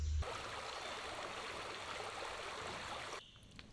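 Water in a small creek flowing steadily, a soft continuous babble and trickle heard close by, alone, with the rush easing slightly near the end.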